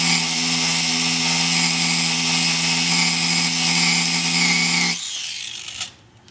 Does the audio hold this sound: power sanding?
yes